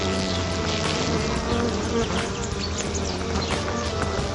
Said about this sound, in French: À leur retour, elles émettent un son grave et effectuent une sorte de danse en se secouant.